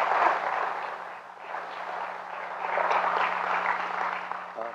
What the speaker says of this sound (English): Brother Minister Charles, let's give them all a warm round of applause